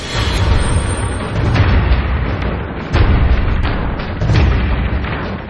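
Mutator weapon blasts in the video game Resistance 3, a loud, dense run of booming explosions that roll on continuously with a few heavier bursts.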